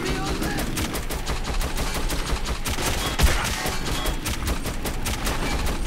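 Rapid machine gun fire in the shooter Metro 2033, loud rattling bursts of close, dense shots running throughout with a sharper crack near the middle.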